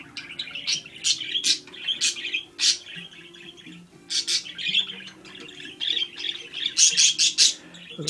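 Small birds chirp and tweet in quick bursts over several seconds, lively and close, with faint salsa music playing softly underneath.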